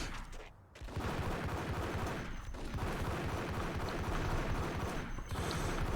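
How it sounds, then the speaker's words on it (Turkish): Dense, continuous gunfire and explosive action from the video game Max Payne, a steady wall of shooting with a few brief dips, heard fairly quietly in the background. "Biri sıkıyor. Kim sıkıyor lan?"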